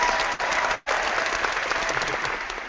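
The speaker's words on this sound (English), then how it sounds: "I just feel like giving you another round of applause" A round of applause rises from a studio audience in a steady, dense wash of clapping, with one brief cut partway through.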